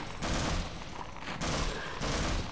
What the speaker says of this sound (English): something's shooting stuff at me